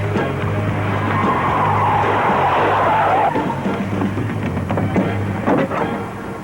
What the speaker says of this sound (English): they do handbrake turns and so on